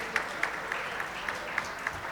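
Polite audience applause at a corporate IT and analytics panel session, fairly faint and even with a few sharper individual claps standing out over about two seconds.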